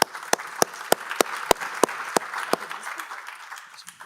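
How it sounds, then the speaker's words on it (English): Audience applause at a conference on Europe's digital model, with a steady stream of clapping from a room of listeners and a handful of sharp, close, evenly spaced claps standing out above it before it thins toward the end. "So let's give her an applause."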